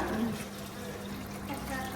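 Water is poured into a pot of mutton curry, a steady splashing pour running the whole time beneath people talking.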